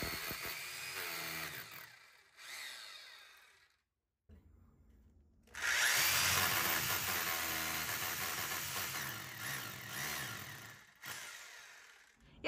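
Power drill boring holes into a household wall to mount floating shelves, a loud steady whine in two bursts separated by brief pauses, the second burst longer and harsher, with no talking.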